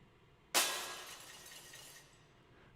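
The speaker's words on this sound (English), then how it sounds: "this neat sound effect here that's a bunch of glass shattering that, again, we did for real" Real glass shatters in one sudden loud crash, followed by about two seconds of bright tinkling and scattering debris fading out, ending with another sharp hit, heard alone with no talk.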